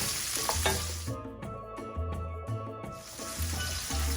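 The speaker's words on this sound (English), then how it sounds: "now we're just going to stir that around a bit" Ingredients for Trinidad pepper shrimp sizzling in a pan while being stirred, a continuous close frying hiss with shuffling stir sounds and a low steady hum beneath, no voices.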